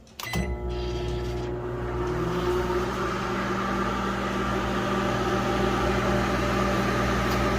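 An old microwave oven cooking three strips of bacon starts with a click and then settles into a steady low electric hum and whir with the turntable turning, close and alone.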